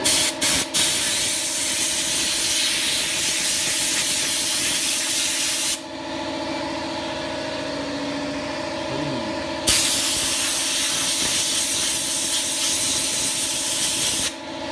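An air compressor blasts air while a dirty computer is being cleaned: a loud, steady hissing spray, a softer pause with a low hum underneath, then another long forceful blast.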